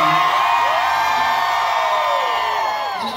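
A concert crowd at Brooklyn Bowl roars and whoops during a show, a loud, dense wall of cheering that holds steady and tapers only slightly near the end.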